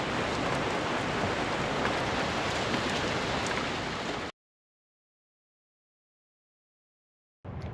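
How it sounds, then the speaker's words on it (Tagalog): Steady rain falls outside in a backyard garden, a dense even hiss that stops abruptly partway through and briefly returns at the end. "Wala naman pong magagawa dito sa labas pagka ganyang umuulan"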